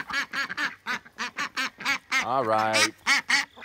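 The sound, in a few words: duck quacking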